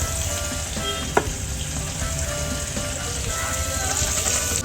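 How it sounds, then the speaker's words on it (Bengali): Chopped onion dropped into hot oil in a pan with a few cardamom pods, sizzling and frying loudly and steadily, with a brief clatter of stirring partway through. "তেল আমার ভালোই গরম হয়ে গেছে। আমি হচ্ছে এই যে এই পেঁয়াজটা আমি দিয়ে দেবো।"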